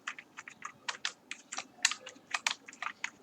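Quick irregular keystrokes on a computer keyboard as code is typed, a steady run of close, crisp clicks with short pauses and no talk.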